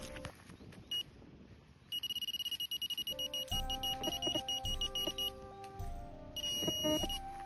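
Metal detector sweeping a field over a buried find, giving repeated sharp electronic beeps and tonal warbles, bursts coming in quick runs and longer held tones, close and clear with no talking.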